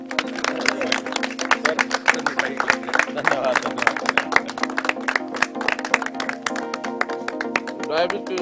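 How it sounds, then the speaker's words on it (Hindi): An audience claps at a celebration of Neeraj Chopra's Olympic gold, with a dense, steady patter of many hands running the full length under a man's speech and a constant low hum. "एक बार जोरदार मेरे साथ मिलकर तालियां बजा दो।"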